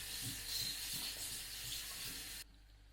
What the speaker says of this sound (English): First, we're gonna have to wash the strawberries,